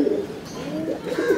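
A racing pigeon gives short, throaty coos in quick succession, close and moderately loud, over a faint background murmur.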